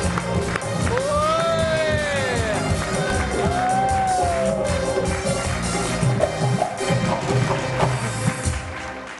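Studio audience on a TV talk show cheering a guest model from Karachi, with loud whoops and crowd noise over clapping, continuous and lively throughout.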